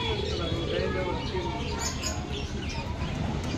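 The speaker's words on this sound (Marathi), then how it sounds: "कबूतर कबूतर जोडी" Pigeons coo among caged birds at a busy wholesale pigeon market, a steady crowded hum of soft calls and chirps under background chatter.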